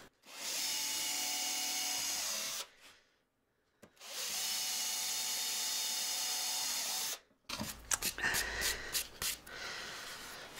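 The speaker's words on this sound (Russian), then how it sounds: "Также буду сверлить по две сразу боковушки." A power drill bores through two wooden side panels of a beehive nucleus box at once, running in two long, loud, steady whirring bursts separated by a pause, then followed by clattering handling of the wood.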